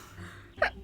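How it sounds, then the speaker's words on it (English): A short sneeze effect from the video game Witchy Life Story, a single quick burst rising over a low game backdrop near the end. "That sneeze sound sounds so realistic"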